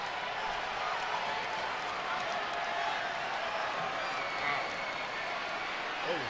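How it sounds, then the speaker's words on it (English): Crowd cheering and applause in a WWE 2K25 SmackDown Universe Mode wrestling arena, a steady, dense roar that holds at the same level throughout, with no clear breaks. "The crowd approving."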